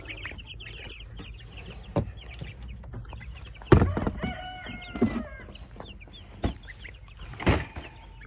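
Chickens cluck and a rooster crows near a tool house outdoors, with scattered sharp knocks and bursts of clucking over a low, steady background.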